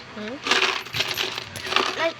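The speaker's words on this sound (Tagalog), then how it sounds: "Nadito din ang barya." A coin bank being emptied, coins spilling and jingling in several bright, clattering bursts, close and fairly loud.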